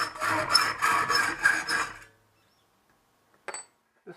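A saw cuts a piece of thick Merbau decking wood in about six quick, rhythmic rasping strokes, close and fairly loud, then stops, followed by near silence and a couple of faint knocks.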